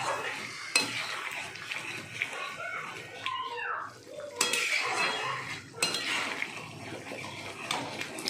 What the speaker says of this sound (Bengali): গোমাগত নেড়ে যাচ্ছি যাতে না লেগে যায় নিচে